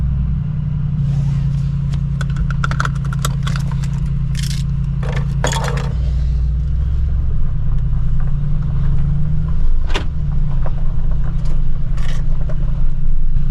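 Mercedes-AMG G63 engine rumbling steadily and loudly throughout, with scrapes and clicks on top and a shift in engine tone around the middle as the SUV pulls away.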